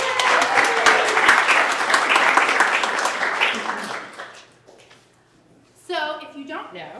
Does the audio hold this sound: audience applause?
yes